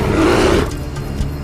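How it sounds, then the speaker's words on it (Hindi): A bear roars loudly and close for about half a second, a rough growling blast that cuts off into a low rumbling background. "ये तो भालू की आवाज है।"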